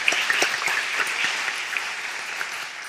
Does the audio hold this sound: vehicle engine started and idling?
no